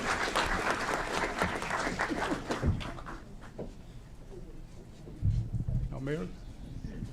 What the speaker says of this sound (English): Another round of applause for our Educators of the Year, DuPage County, Kane County.